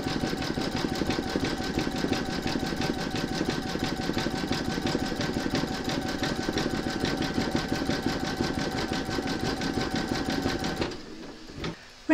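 A computerized embroidery machine sews a satin stitch belt on an in-the-hoop appliqué scarecrow, humming with a fast, steady needle rhythm for about eleven seconds before stopping abruptly.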